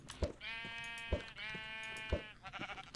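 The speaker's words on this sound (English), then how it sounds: "So it took 4 to kill a sheep" Sheep in the Minecraft video game bleat repeatedly, a run of long wavering cries with short thuds between them, fairly quiet and heard alone with no talking.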